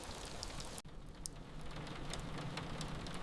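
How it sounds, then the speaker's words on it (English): Rain falls on a large triangular loft window at night: a steady, dense patter of drops with soft hiss, fairly faint and continuous, alone without voices. "Rain tapped gently against the large triangular window facing north."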